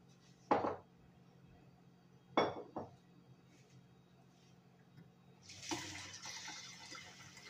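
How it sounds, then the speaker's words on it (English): A few clinks of a pot and utensil, then water pours into a pot of cauliflower soup in a burst of splashing toward the end, nearby and moderately quiet. "I'm going to add a little bit more water, and then I'm just going to let that simmer."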